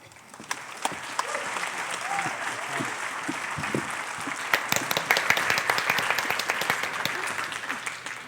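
An audience at a conference keynote breaks into applause to welcome the speakers, clapping that swells from a few claps into a full, sustained round with sharp individual claps standing out.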